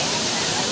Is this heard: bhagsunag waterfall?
yes